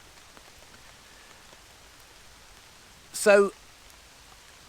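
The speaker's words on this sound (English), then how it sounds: "as I can hear the rain on my tarp," Rain showers steadily across a hammock tarp canopy at a solo rainy camp, a soft, even patter that runs throughout, with a brief voice speaking near the end.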